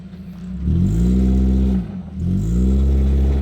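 Off-road vehicle on a steep hill at Pha UFO, Nakhon Ratchasima, engine revving hard and loud as its wheels spin freely, the roar dipping briefly before climbing again.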